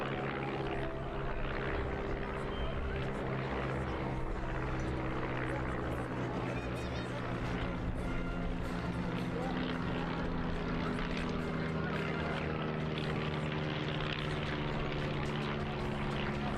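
A propeller aerobatic aircraft performs at the Parco Victory Festival air display, a steady droning engine and prop buzz with strong tonal hum, continuous throughout beneath a commentator's amplified voice.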